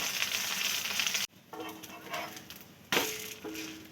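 A rice polo, a dosa made from boiled rice and dosa rice, roasts in oil on a pan with a loud, continuous sizzle that drops sharply, then surges back after a brief scraping of the pan.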